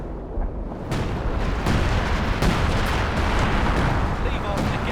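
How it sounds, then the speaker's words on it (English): Artillery barrage from 105 guns in the World War II strategy game Company of Heroes 2, a sustained run of overlapping booming impacts and bursts that continue throughout, with a commentator talking over the shelling. "We've got the 105 artillery dropped down by RANZMAN."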